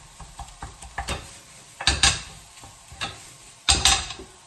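Cooked rice being broken up and stirred into a turkey mince stir fry in a hot pan, with a low sizzle under repeated scraping and clattering utensil strokes that swell into louder bursts near the middle and end.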